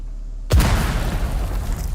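A sudden loud boom in Dune Awakening erupts after near silence, a deep blast that rumbles on and slowly fades over the next second and a half.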